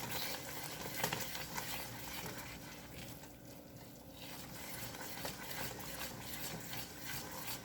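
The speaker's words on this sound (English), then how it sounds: "Stirring." A spoon steadily stirs heavy cream into butter pecan pound cake batter, giving continuous soft wet scraping and sloshing in a bowl, fairly quiet and close, with no voices.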